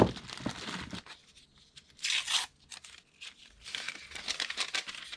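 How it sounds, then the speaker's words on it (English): Paper roll being unrolled for loading into a Dejavoo credit card terminal, heard as close, crinkly rustling and crackling in a few bursts with brief pauses, no talking. "unroll your paper"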